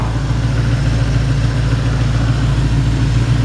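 A Ford 351 Cleveland V8 with a 4-barrel carburetor idles in a 1970 Mustang convertible, a steady, loud, close low rumble with even pulsing throughout and no talk.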